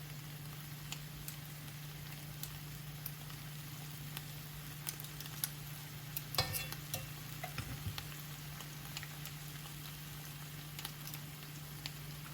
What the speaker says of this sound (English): I'm not cooking it very high, so I'm not really worried about the chicken sticking.